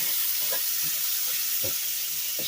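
Vegetables sizzle in a hot pan with fat from bacon, a steady bright frying hiss close by with a few soft stirring bumps, and no talk.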